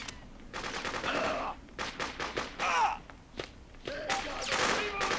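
A heavy mounted main gun firing during a video game battle, with close, loud bursts of rapid shots broken by short pauses, mixed with other combat sounds.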